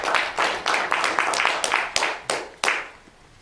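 An audience at a general assembly meeting claps in a run of sharp, closely spaced hand claps that thin out and fade over a few seconds, with no talking.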